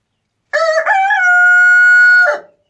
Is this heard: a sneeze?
no